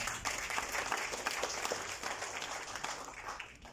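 An audience at a round table event marking the tenth anniversary of Business Mauritius applauds, sustained dense clapping from a room of people lasting several seconds and tapering slightly at the end.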